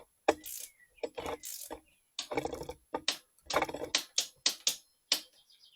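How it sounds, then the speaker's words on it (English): A torque wrench tightens a bicycle wheel axle, giving a series of sharp ratcheting clicks in irregular bursts, close and clear, with no talking. "I'm just going to torque up the axle"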